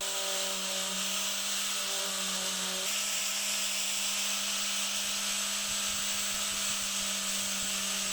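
Power sander running on clamped wood, a loud steady whir with a constant motor hum that shifts slightly in pitch partway through, close and continuous without any talking.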